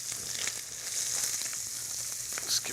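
Bacon, portobello, shiitake and oyster mushrooms fry in a pan with a close, continuous, crackling sizzle and no voices.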